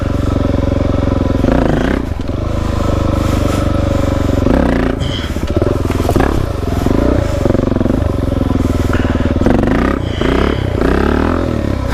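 A Suzuki DRZ dirt bike roars through first-gear wheelies on a trail, its single-cylinder engine loud and near, surging and dropping with repeated throttle bursts and clattery mechanical noise.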